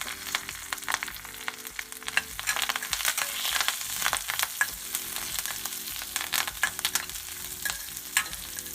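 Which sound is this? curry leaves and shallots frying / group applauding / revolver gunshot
curry leaves and shallots frying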